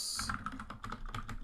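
Close, rapid keystrokes clack on a computer keyboard in a quick irregular burst, with crisp individual clicks and no talking.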